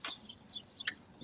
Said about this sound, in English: it's the birds in the tree line